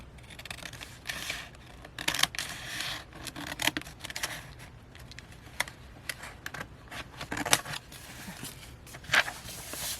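Scissors snip through paper while making a pocket for a handmade journal, a series of close, crisp cuts and rustles spaced irregularly across the moment.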